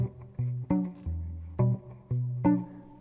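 Cello played through an LR Baggs Venue DI with no boost, plucking a walking bass line of short, resonant low notes in a steady rhythm, close and clear with no talking.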